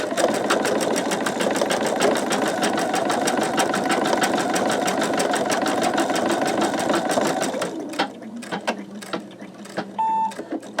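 An embroidery machine stitching a sugar skull design, a fast steady rhythmic clatter of the needle that stops near the end, followed by a few mechanical clicks and a short beep.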